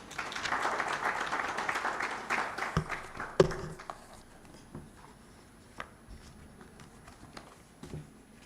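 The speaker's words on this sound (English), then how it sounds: "Another round of applause for the Honorable Minister of State for East African Affairs" Audience clapping at an East African Community budget dialogue on tax and debt, moderate applause in a hall that rises and then fades into scattered claps and a few knocks.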